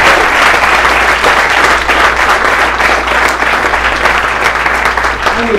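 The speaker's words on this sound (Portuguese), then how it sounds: "Quem pode aplaudir o Senhor? Aplauda o Senhor." A church congregation applauds in praise of the Lord, a loud, continuous wash of many hands clapping together that holds steady with a low hum underneath.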